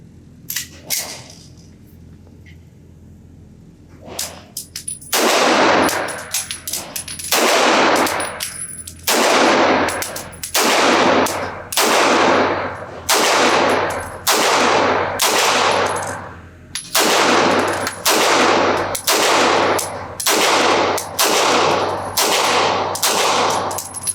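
Beretta 92G pistol fitted with a red dot sight fired at 7 yards on a range, a long string of loud, sharp gunshots in quick steady succession with brief pauses between groups.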